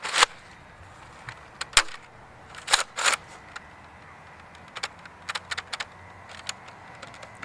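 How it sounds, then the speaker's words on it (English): Nerf Elite Crossbolt blaster firing down a 75-foot range: a series of sharp, separate clicking snaps, fairly close, spaced irregularly across the stretch with quiet gaps between shots. "So now let's get into the shooting test."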